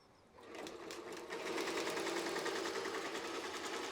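Embroidery machine stitching satin-stitch lettering for a name, a steady rapid mechanical chatter that starts quieter and then settles into a loud, continuous whirring rhythm.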